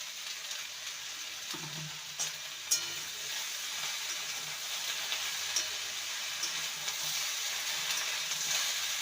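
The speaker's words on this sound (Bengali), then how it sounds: "ডাটা দিয়ে আবারও ভালো করে নেড়ে নেবো দিয়ে দেবো কুমড়ো শাক" Pumpkin stems and greens sizzle in a hot pan while being stirred, a gentle continuous hiss with a few light clinks and scrapes scattered through, fairly faint and without talk.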